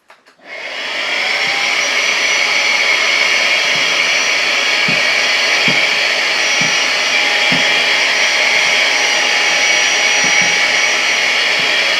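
A eufy HomeVac S11 Lite cordless vacuum runs at a steady, loud whine with a close airy rush, sucking without any attachment and holding an even level for about eleven seconds after a quick start, with a few faint low knocks.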